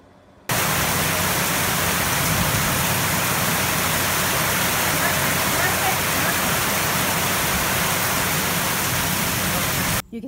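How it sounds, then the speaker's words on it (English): Rain pouring down over a North Texas backyard during a drought, a loud, dense, steady roar that starts abruptly and continues unbroken for about ten seconds. "I want you to check out this video of the rain as it was coming in yesterday"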